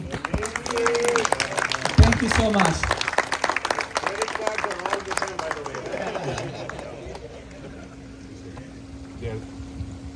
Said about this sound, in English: Big round of applause for all.